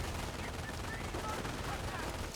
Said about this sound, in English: now they're in range of the machine gun